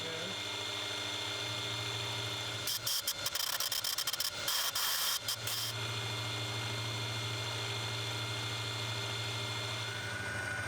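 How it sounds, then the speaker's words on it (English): A mill cutting a slot in a knife handle gives a rough, grinding burst of about three seconds, loud and close, over a constant machine hum that runs alone before and after. "Next we'll mill out a slot for the blade and the sleeve to pass through."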